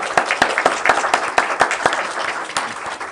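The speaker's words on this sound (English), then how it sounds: "Let's give Cam a round of applause." Steady applause from a group at a council meeting, dense clapping with a few sharper individual claps standing out, sustained throughout at moderate loudness.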